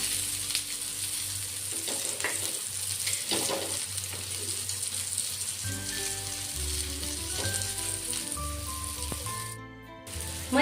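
Surmai fish fries in oil over a low gas flame, a steady close crackling sizzle that runs the whole time, joined later by faint tonal music underneath and a brief clatter near the end.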